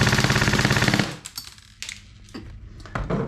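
Airsoft gun loaded with 0.28 gram BBs fires a loud, fast full-auto burst for about a second, then falls into a few scattered clicks and mechanical clacks.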